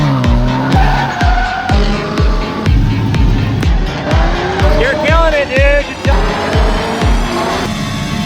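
A drift car at a night drifting event slides with loud, sustained tire squeal and skidding over a roaring, revving engine that rises and falls in pitch, close and continuous throughout.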